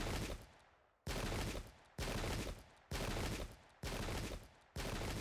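Musket volleys crash out in the Pike and Shot wargame during the 1643 Battle of Adwalton Moor, six loud, dense bursts in a steady rhythm roughly a second apart, each dying into a short rumbling tail before the next.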